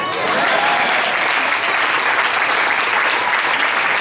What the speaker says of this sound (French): On acclame bien.